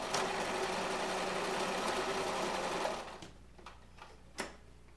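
A sewing machine closes the end of a stuffed fabric rabbit ear with black thread, running in a fast, steady whir for about three seconds, then stopping, followed by a few faint clicks and one small knock.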